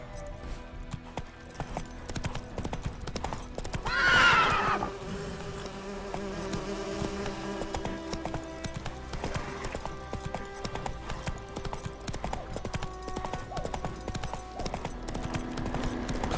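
Roach the horse galloping in The Witcher 3: Wild Hunt, rhythmic hoof clip-clop running steadily throughout over a busy game soundscape with buzzing insect-like ambience and a brief louder swell partway through.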